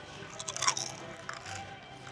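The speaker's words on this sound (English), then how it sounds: "Chili's chips and salsa ASMR" Crunching of Chili's tortilla chips with salsa being chewed close to the mic, a few crisp bites and moist chewing sounds with no talking.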